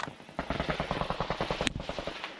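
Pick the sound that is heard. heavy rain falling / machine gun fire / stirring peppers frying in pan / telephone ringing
machine gun fire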